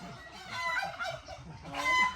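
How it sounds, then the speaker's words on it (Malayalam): Chickens cluck and squawk nearby in a short, uneven burst of repeated calls, fairly loud with no talking over them. "കോഴികളുടെ കൂടെയാ?"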